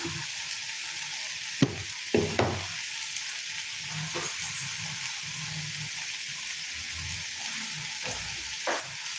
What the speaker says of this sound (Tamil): கொஞ்சம் நடுவில் எண்ணெய் ஊற்றிக்கலாம்